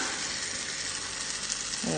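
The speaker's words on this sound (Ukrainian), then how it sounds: "І так, я теж іду смажити" Batter for potato pancakes (deruny) frying in a hot pan, a steady, dense sizzle that holds evenly throughout at moderate loudness.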